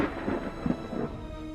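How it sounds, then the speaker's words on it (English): A low rumble of thunder, brief and moderately loud, rolling in a few soft pulses before fading. "or even thunder."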